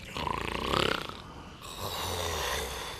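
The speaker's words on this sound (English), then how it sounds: "Now, do you believe me about his snoring?" Loud, rasping snores up close: a rattling inhaled snore followed by a long, rough, droning breath, with no talking.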